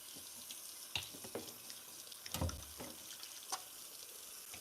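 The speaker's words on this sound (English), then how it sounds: "First, I'm gonna wash my hands." A kitchen cold-water tap runs steadily while someone washes their hands, a soft constant hiss broken by a few louder splashes and clatters close to the sink, with nobody speaking.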